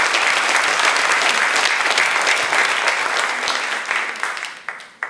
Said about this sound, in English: I think he deserves some applause for that